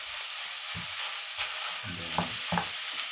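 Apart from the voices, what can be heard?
sautéing ground pork in a pan for sisig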